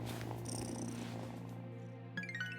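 A cat in the video game Wylde Flowers purrs in a steady low rumble, with soft chiming game music and a bright plucked tone entering near the end.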